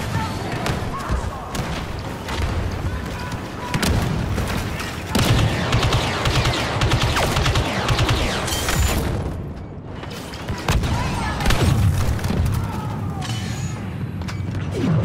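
Battle in Star Wars Battlefront II on the Crait map, with a grenade explosion and dense gunfire: repeated loud thuds, booms and rapid shot bursts crowding together in heavy, continuous combat, with voices shouting at times.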